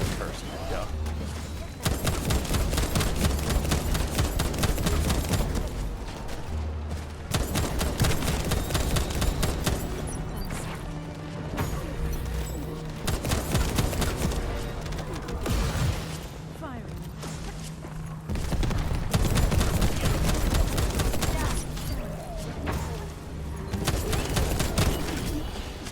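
Rapid gunfire in The First Descendant game, sustained bursts of shots over about twenty-five seconds broken by short gaps, loud and busy, with a voice talking at times.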